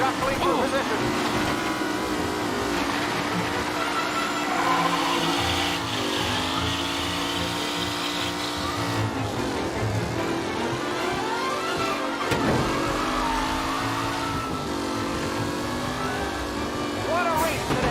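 Race cars roaring around a track in the video game Mafia: Definitive Edition, engines rising and falling in pitch as they pass and shift, with a commentator's voice speaking over the steady motor noise.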